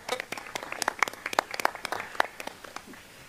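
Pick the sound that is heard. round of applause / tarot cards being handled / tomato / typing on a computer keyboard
round of applause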